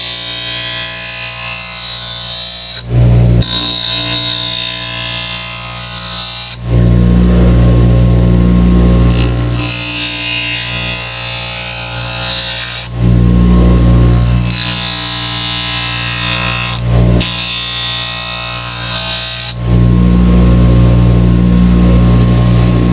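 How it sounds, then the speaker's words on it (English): A blade being sharpened on an electric grinding wheel, a loud steady motor whine with harsh grinding bursts as the blade is run across it, stopping briefly several times between passes. "you don't want to be changing the angle of your blade as you're running it down the grinding wheel"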